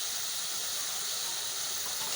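Spices hitting a hot pan of browned chicken for a chicken jalfrezi give off a steady, bright sizzle and hiss that holds evenly throughout, close and continuous with no talking.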